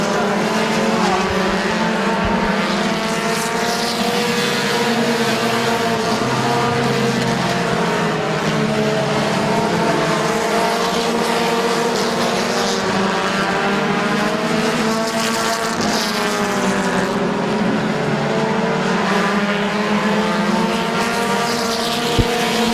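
Race cars roar around the oval at Midvale Speedway in a late-laps battle for the lead, loud sustained engine drones rising and falling as the cars pass, continuous and close.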